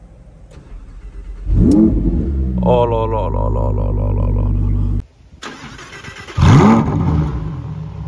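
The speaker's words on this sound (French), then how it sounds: "pour démarrer, c'est comme dans un jet. Tu lèves ça, pied sur le frein, et j'appuie sur le bouton start" A Lamborghini Huracan Evo Spyder, with its mid-rear engine in Corsa mode, fires up with a loud flare and holds a sustained rev. It cuts off, then starts again with another loud burst while a man exclaims.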